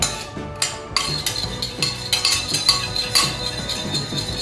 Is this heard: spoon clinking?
yes